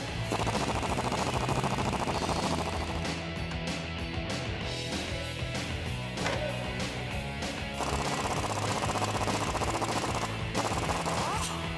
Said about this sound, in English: Using a spring compressor, compress your new spring to make installation easier.